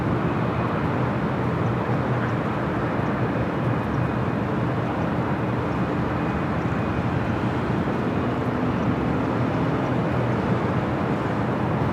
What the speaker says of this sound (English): Got the Emirates A380 Super, should be heading up here for a north side takeoff.